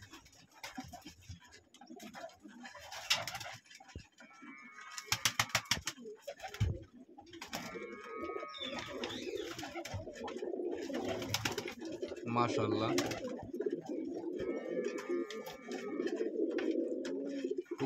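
Pigeons coo softly in a loft on a cold day while feeding their chicks, with low murmuring calls and occasional wing flutters. Someone talks now and then over the birds.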